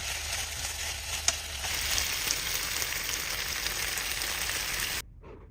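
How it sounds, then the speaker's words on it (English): Beef with peppers and oyster sauce stir-frying in a hot pan, giving a dense, steady sizzle with a faint clink of stirring that stops abruptly at the end. "toss in the peppers and half a tablespoon of oyster sauce. Give everything a quick stir for about 30 seconds."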